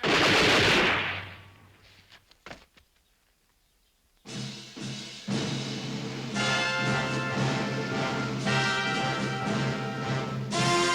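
A volley of rifle and machine-gun fire from a 1967 western about Custer, loud bursts at the start fading to silence, then a dense sustained barrage of rapid overlapping shots continuing to the end.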